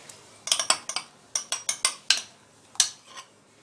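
A metal spoon clinks and taps against a pan on a low flame as mango pulp goes in, a dozen or so sharp, bright knocks in an uneven rhythm, close and clear with no talking.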